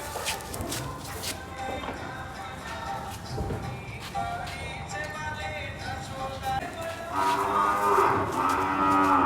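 A cow lows loudly and repeatedly at a cow-care feeding where sweet laddus are handed out and a calf is nearby. Background voices chatter under the drawn-out moos.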